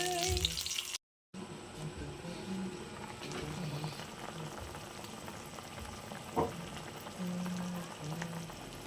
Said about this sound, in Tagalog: Pinipirito na ni Ogang.